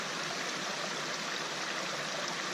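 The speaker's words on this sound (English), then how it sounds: "It's moving water with that beautiful sound" A stream on the Appalachian Trail near Rockfish Gap rushes and babbles steadily at a moderate level, a continuous even wash of moving water heard alone with no voices.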